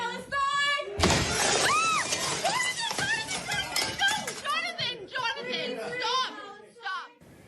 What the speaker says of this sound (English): You can hear protesters chanting before a glass door is shattered and tensions escalate.